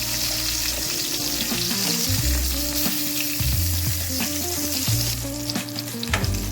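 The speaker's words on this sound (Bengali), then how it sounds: "এবার এই তেলের মধ্যে আমি বেগুনগুলোকে ছেড়ে দেব।" Aubergine pieces fry in hot oil, giving a steady, close sizzle with occasional stirring scrapes throughout.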